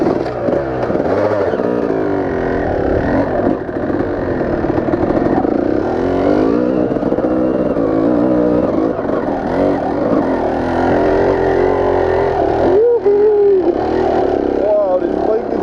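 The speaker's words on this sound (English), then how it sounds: "wow, this bike is running so solid" A dirt bike engine runs steadily on a Hawaii trail ride, a continuous rough roar with shifting pitch that stays loud throughout, while riders talk over it.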